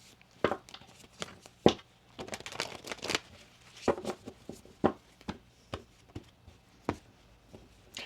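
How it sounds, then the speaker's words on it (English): Tarot cards are riffled and shuffled in quick, papery bursts with soft taps between, close and clear, no talking. "we're going to do one more shuffle there for you"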